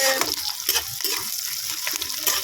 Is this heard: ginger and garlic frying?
yes